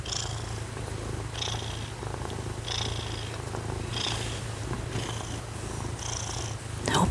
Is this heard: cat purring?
yes